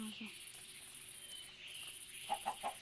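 Soft Minecraft game ambience of insects, then a quick run of four short chicken clucks near the end, faint and fairly close.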